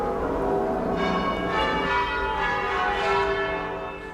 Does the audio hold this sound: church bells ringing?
yes